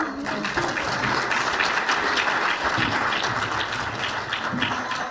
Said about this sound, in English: a round of applause for the other Maleboho